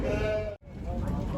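Goats or sheep bleating at a livestock market in Koksu, Taldykorgan, a steady crowded din of animal calls with voices mixed in, briefly cut to silence midway before resuming.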